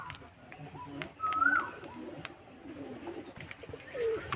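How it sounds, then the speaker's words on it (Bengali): Pet pigeons coo softly in a yard beside a field, low repeated calls with faint chirps over quiet rural background noise. "পায়রাগুলো মাঠে গিয়ে দেখো ঘাস খেতে চলে গেছে আমাদের মাঠে"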